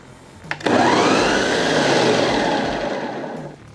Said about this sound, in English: get this into a blender to make a pumpkin puree